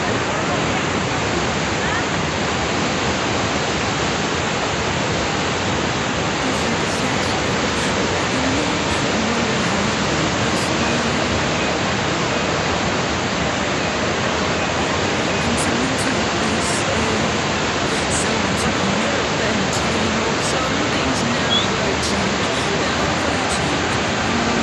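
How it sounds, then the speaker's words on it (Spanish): The Eyipantla waterfall in Veracruz, Mexico, roars as a loud, constant wash of rushing water that stays unbroken and dominant throughout. "observar lo bonito de esta cascada y sobre todo lo bonito que se escucha"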